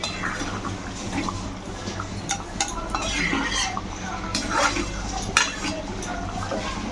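A metal spatula scraping and cutting through boiled potatoes in a pot of red chicken curry, with repeated soft clinks and scrapes against the pot over a steady simmering bubble.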